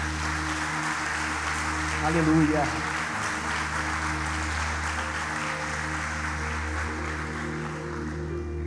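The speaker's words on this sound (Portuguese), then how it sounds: "Aplauda o nome do Senhor" A church congregation at a family service applauds in sustained, dense clapping over held musical tones, swelling briefly near the start, while a voice calls out.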